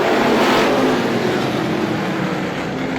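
Several Strictly Stock race cars roar past together at Star Speedway in a dense, loud engine rumble, with rising and falling revs and no voices.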